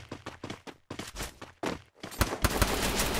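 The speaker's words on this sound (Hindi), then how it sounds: "बहुत सही हेडशॉट मारा, एकदम थोड़ा सा दिख रहा था बट हेडशॉट लगा उसको" Gunshots ring out in the King of Factory video game, a short series of sharp, close shots in quick succession, building to a denser cluster of loud cracks at the end.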